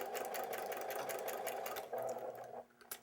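A sewing machine chain-piecing fabric scraps runs in a steady, close, continuous whir for about two and a half seconds, then slows and stops with a brief final burst.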